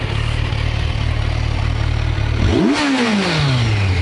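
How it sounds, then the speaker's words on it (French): A 2021 Kawasaki Versys 1000 SE Grand Tourer motorcycle idles with a steady low rumble, then the engine is revved hard, its pitch climbing sharply before falling away as it settles back down. "Là je vais vous faire chanter un peu le moteur."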